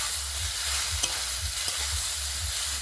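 Mashed boiled potato stirred and fried in a pan, giving a continuous close sizzle with soft scraping and a couple of faint knocks as it is turned over.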